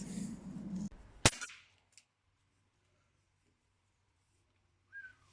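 A Crosman 1377 4.5 mm pellet air pistol set to 8 joules fires once at a target 17 metres away: a single sharp, loud crack after brief talk, then near silence with a faint sound at the end.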